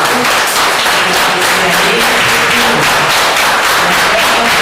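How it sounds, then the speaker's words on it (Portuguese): Congregation applause at a church service, loud, continuous and densely packed clapping filling the whole stretch, with faint voices or tones underneath. "Então vamos dar uma salva de palmas."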